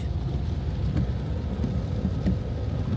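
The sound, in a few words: rain and traffic on the road outside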